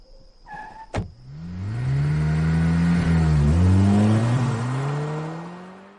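In a drama scene, a car door shuts with a sharp thud and the engine then starts and revs up steadily, a loud rising mechanical drone that dips briefly and climbs again.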